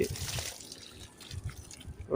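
Liquid chicken-manure fertilizer splashes and pours in short gurgling bursts close by onto soil around a mango tree, with a voice speaking over part of it.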